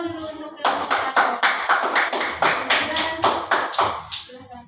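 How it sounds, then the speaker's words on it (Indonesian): Classroom students clap together in a rhythmic unison pattern for a group of classmates, about a dozen sharp, close, evenly spaced beats, with a teacher's voice heard briefly before and after. "tepuk tangan dulu untuk kelompok 1."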